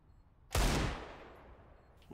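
A single sharp, loud gunshot goes off in Counter-Strike: Global Offensive on the Overpass map during a competitive match, its echo fading over about a second and a half.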